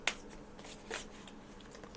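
A brief riffle of playing cards being shuffled, soft and close, with a few light flicks and no talking.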